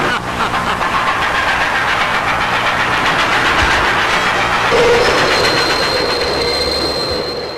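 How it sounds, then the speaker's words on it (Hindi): A train rumbles past close by at a railway level crossing, a loud, steady roar of wheels and engine with rattling carriages that fades slightly at the end. "ट्रेन के निकल जाने का इंतजार करें"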